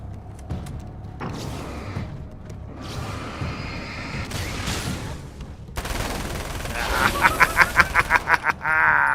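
Rapid automatic gunfire from an Uzi standing in for a minigun in the Alan Wake's American Nightmare video game, swelling into a dense run of repeated shots near the end amid other game noise.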